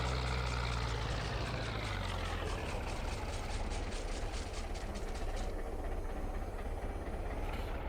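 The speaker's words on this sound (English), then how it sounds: "It's great for little tractors like this." A small tractor pulling a mower in Farming Simulator 22 gives a continuous engine drone with a rapid rhythmic clatter, steady and close throughout, and a pitch shift partway through.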